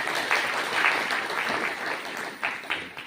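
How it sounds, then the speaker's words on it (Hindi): Audience applause at a motivational talk, steady dense clapping throughout with a few louder bursts, moderately distant, no talk over it. "एक जोरदार ताली के लिए।"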